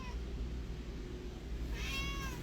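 An older cat in a shelter kennel meows, with a faint, brief meow near the end over a quiet, low room hum.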